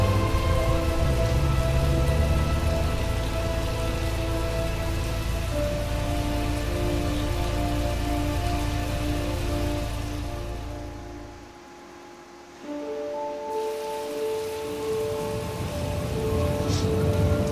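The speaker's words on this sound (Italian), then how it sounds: "piove pure tanto" Steady heavy rain in the video game Heavy Rain pours down in a constant dense hiss, briefly dipping quieter before the downpour swells back up.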